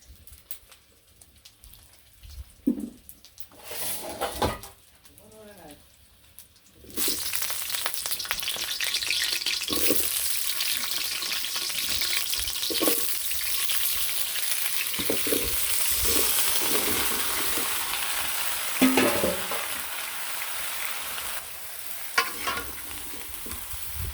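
Curry frying and being stirred on a home stove: after a few quiet knocks and scrapes, a loud, steady sizzle bursts in and continues, punctuated by intermittent spoon scrapes against the pan, with no talk.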